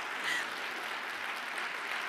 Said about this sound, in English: I think a huge round of applause.